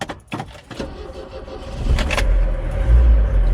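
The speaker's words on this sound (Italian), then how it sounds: "Abbiamo anche un'idea del rumore che fa il furgone andando." An old 1981 Bedford CF van's engine rumbles low and grows louder as the vehicle pulls away, with a few clunks and rattles at the start.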